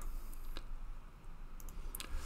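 A computer mouse gives a few sharp, close clicks, spaced irregularly over a low background hum, with no talking.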